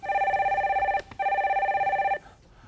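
A telephone rings twice for an incoming call on a Korean call-in broadcast, two steady electronic trills with a brief gap between them. Each ring is clear and close, with no talk over it.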